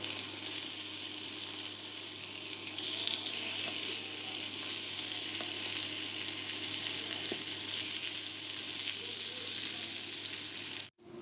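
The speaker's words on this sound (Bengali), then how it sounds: "এখন মাছগুলো উল্টিয়ে পাল্টিয়ে ভেজে নিচ্ছি" Fish pieces frying in a pan with a little oil, a continuous broad sizzle holding steady and close throughout, with faint occasional scrapes as the pieces are turned, no voices.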